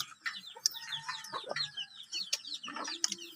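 Chickens cluck busily at close range while being fed, with many short overlapping calls and occasional sharper squawks forming a steady flock chatter over about three seconds.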